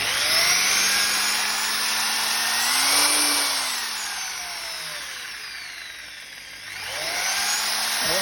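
Budget Aldi Workzone or Lidl Parkside power drill running close by, a whining motor whose pitch rises and falls as the speed varies over several seconds, with no talking.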